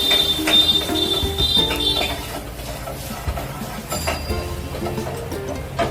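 Spoon scraping and clinking in a wok while stirring oil-free chickpea dal, quick metallic taps and scrapes mixed with a soft simmer, close and fairly loud.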